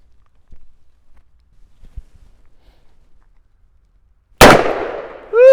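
A single booming shot from a Taurus Tracker .44 Magnum revolver cracks out after several seconds of quiet shuffling, then rings off briefly before a loud whoop of a voice cuts in at the very end.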